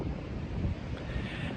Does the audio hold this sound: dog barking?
no